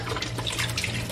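Water runs steadily from a tap, filling a container to soak a frozen collagen product, a continuous close splashing wash with no talk.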